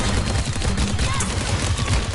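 Rapid enemy gunfire in the shooter game Paladins, a steady dense rattle of shots running the whole time, loud and close amid game effects.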